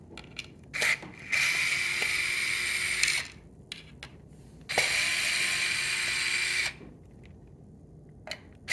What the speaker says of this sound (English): So remove these 4 screws.